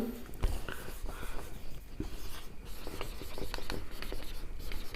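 A pen or marker writes notes for a biology lesson, making close scratchy strokes in short irregular bursts with small taps between them, steady and fairly faint, with no talk.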